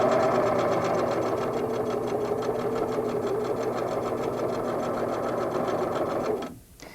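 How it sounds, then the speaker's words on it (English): A Singer sewing machine runs a quarter-inch seam on quilt fabric, a loud, close, steady rapid stitching whir that carries on without a break and then winds down abruptly at the end, no voices over it. "Place your fabric under the presser foot, lower your needle, and stitch a 1/4 inch seam. Back tack and continue sewing."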